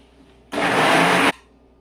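A kitchen mixer whirs loudly for under a second as it grinds coconut, green chillies, garlic and small gandhari chillies into chutney paste. The short burst starts and stops sharply against a quiet room.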